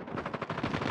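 A short burst of rapid automatic gunfire in Call of Duty Mobile Search and Destroy on the Raid map, close and steady for under a second.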